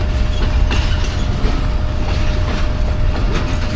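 Pakistan Railways Tezgam express pulling into a station platform, a loud continuous rumble with rhythmic wheel clatter and a faint steady tone, no voices.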